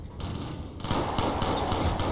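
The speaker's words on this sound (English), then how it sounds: "this is a Halo SMG. I can" Rapid submachine-gun fire in the 2007 first-person shooter Shadowrun, a Halo-style SMG, rattles in a dense, continuous burst, loud and close, swelling fuller after a brief lull at the start.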